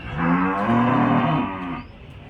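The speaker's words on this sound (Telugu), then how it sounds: "ఎన్ని ఉన్నారు అబ్బా ఆవులు" At a cattle market in Punganur, a single long, low moo from a cow, close and clear, fading out after about two seconds.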